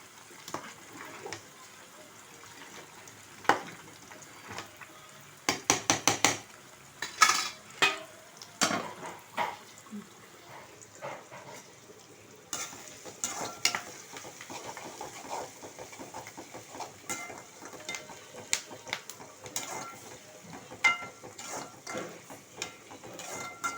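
Food bubbling and sizzling in a pot, with soft clinks and scraping stirs cutting in irregularly over a quiet background.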